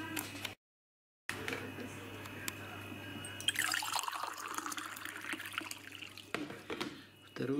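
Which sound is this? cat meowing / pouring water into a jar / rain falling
pouring water into a jar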